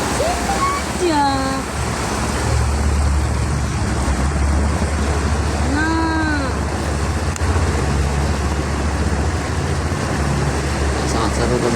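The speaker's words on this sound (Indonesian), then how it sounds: "menyusuri sungai sekitar 35 km dengan menggunakan speedboat kayu" A wooden speedboat runs along a river in Riau, its engine a steady, loud drone with rushing water and wind throughout, while a voice speaks briefly over the noise.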